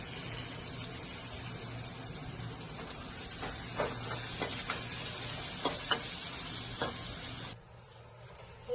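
Steady hissing sizzle of finely chopped onions frying in a pan with faint stirring clicks, continuous and close, cutting out abruptly near the end.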